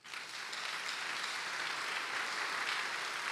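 A church congregation claps in a steady, dense wash of applause that holds evenly for a few seconds, sounding broad and slightly distant with no voices standing out.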